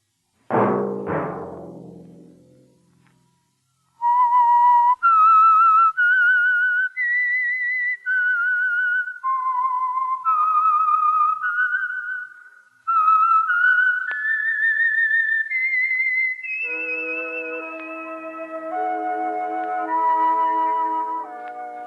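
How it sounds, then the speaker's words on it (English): A clear whistled melody plays note by note, loud and close, after a brief opening chord, with a few pauses between phrases. "Let that whistle be your signal for the Signal Oil program"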